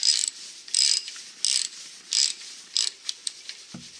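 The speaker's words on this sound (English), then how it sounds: "We're using an 18 millimeter socket, a 1/2 inch drive." An 18 mm socket on a 1/2-inch drive ratchet loosens a caliper bracket bolt on a GMC Sierra rear end, giving several close, bursty ratcheting clicks in an uneven rhythm, followed by a couple of short faster clicks and a dull knock.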